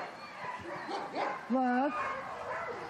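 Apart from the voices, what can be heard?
police sniffer dog barking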